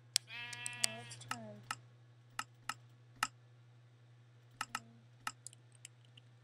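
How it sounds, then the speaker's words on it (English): A Minecraft sheep bleats once early on, a short wavering baa, followed by scattered sharp keyboard clicks over a low steady hum in a quiet room. "Good, we got some sheep."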